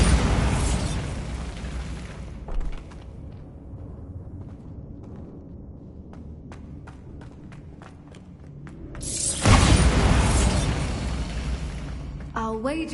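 A Bombarda blasting spell explodes in Hogwarts Legacy, a loud booming burst that fades, then a second big blast rumbles near the end with a voice calling in the background.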